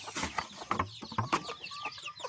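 Ten chicks cheeping inside a coop, a close, busy chorus of short high chirps and peeps overlapping in quick irregular bursts, with soft rustling underneath and no talk.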